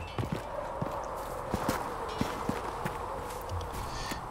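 Horse hooves clip-clop at a steady walking rhythm in the fantasy game Dragon Age: Inquisition, faint and close under a soft ambient background.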